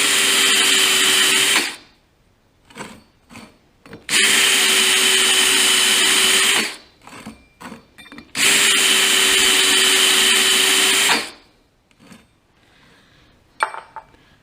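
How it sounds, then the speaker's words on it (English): A power drill cuts a counterbore into metal parts for a Cub Cadet dozer build, in three long loud bursts of whining drilling separated by short pauses with light clanks and handling noise. "I need to get a counter bore to also touch up each of these"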